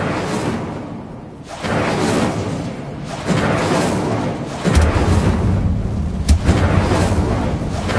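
An Incendio fire spell cast in the Hogwarts Legacy video game, heard as a series of roaring, explosive fiery bursts with whooshes, several loud surges over a continuous rumbling background.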